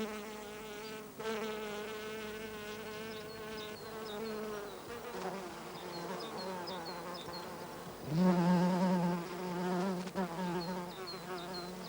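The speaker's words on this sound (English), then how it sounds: "The bee fly, Bombilius, taxis out for takeoff, its monster proboscis at the ready." A bee fly (Bombylius) hums in flight while foraging for nectar among Bellevalia flowers, a continuous close buzz that wavers in pitch and surges louder toward the end.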